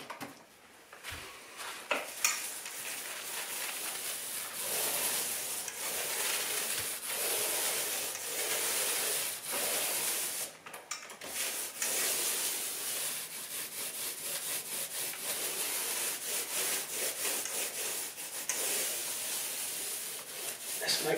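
Paint roller spreading paint across a feature wall, a steady close-up rubbing and swishing that rolls on without a break for the whole stretch, with no talk over it.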